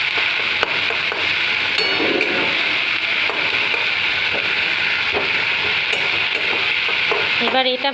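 Spiced jackfruit curry with ginger, garlic, ground tomato and dry chilli powder frying in a pan, a steady loud sizzle with scraping stirs throughout and a clatter near the end.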